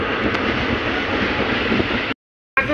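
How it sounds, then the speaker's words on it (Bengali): A train runs with a steady loud rumble and rattle from inside a carriage near Saka railway station, then a brief sudden silence before the noise returns. "ট্রেনের"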